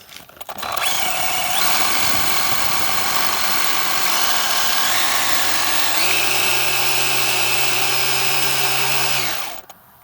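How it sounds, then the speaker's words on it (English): Traxxas Slash RC car on foam tires doing a burnout on cement: a loud, steady high-pitched electric motor whine that holds for about nine seconds, rising in pitch partway through, with no talking. "the issue with doing a burnout is it's gonna wear my tires unevenly"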